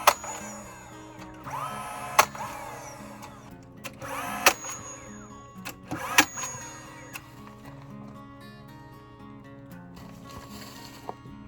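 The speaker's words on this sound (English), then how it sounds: "just going to tack it with a nail gun to hold it in place" A nail gun tacks wooden boards of a DIY compost bin with about four sharp, separate shots spaced a few seconds apart over a steady mechanical hum, and no one speaks.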